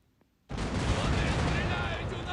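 After a brief quiet moment, a sudden loud roar of ship cannon fire in the online game The Pirate: Caribbean Hunt erupts and keeps rumbling, dense and sustained like a heavy battle volley.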